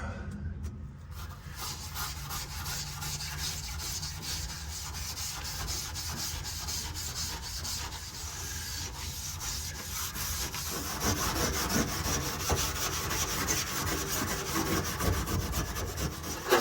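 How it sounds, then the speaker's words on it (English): Continuous rough scuffing and sanding by hand, a steady rasping rub that grows a bit louder and busier toward the end, with no talking. "I'm going to get to scuffing and sanding."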